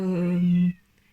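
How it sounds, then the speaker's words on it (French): A single loud, drawn-out cat meow close by, cutting off abruptly and followed by near silence. "Désolée pour le chat qui miaule."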